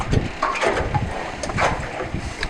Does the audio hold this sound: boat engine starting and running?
yes